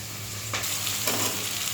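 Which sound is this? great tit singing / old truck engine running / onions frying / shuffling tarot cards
onions frying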